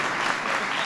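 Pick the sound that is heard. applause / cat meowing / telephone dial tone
applause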